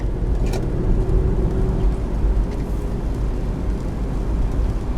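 A 2016 Mini Cooper 1.5 heard from the cabin while cornering hard, a steady engine hum and road roar holding at even loudness throughout.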